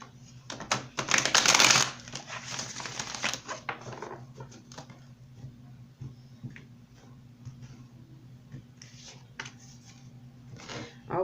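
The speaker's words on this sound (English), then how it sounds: "this deck needs one more shuffle" A deck of tarot cards is shuffled by hand, a brisk riffle burst at first followed by softer scattered card taps and shuffling noises.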